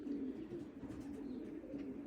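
Racing pigeons coo softly inside their loft during the molt, a low continuous warbling murmur of several birds, faint and steady with no voices.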